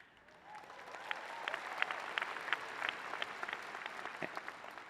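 Sustained applause from a large crowd honoring graduates at a McCombs BBA commencement ceremony, a steady wash of clapping with scattered louder claps rising and falling over nearly five seconds.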